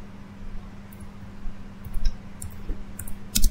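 Typing a terminal command on a computer keyboard, scattered soft key clicks over a low steady electrical hum, with a sharper burst of clicks near the end.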